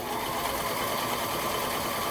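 Sewing machine stitching romper fabric, a steady close-up mechanical whir with fast, even needle chatter running throughout the short burst, no voices.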